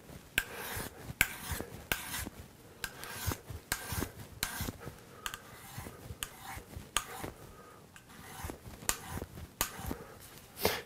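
A marking knife blade is rubbed back and forth on a sharpening stone in steady, rasping strokes, close and clear, with no talk over it.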